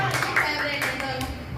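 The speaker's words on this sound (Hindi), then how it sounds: "चलो तालियां दीजिए।" Children at a summer camp clap together in a short burst of quick, close hand claps, with talk mixed in.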